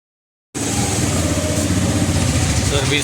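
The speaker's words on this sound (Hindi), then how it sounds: "सर्विसिंग में गाड़ी घुस रहा है।" A Bajaj motorcycle engine starts up abruptly after half a second of silence and runs at a steady, loud idle close by as the bike enters a two-wheeler servicing centre.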